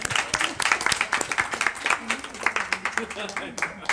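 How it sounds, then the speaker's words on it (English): A film festival audience claps for young performers at a panel talk: brisk clapping from many hands, fairly close, with voices talking over it throughout. "Let's clap for these girls"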